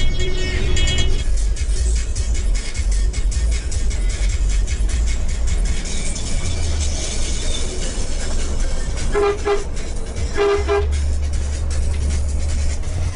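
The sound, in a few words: bus driving on a mountain road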